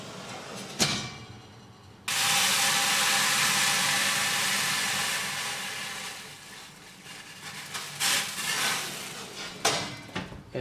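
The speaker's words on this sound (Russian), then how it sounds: "Первое, что мы сделаем, мы нальем пара в духовку." Water poured into a hot bread oven heated to 220 degrees bursts into a loud steam hiss that starts abruptly, fades gradually, and gives way to scattered metallic clanks and knocks.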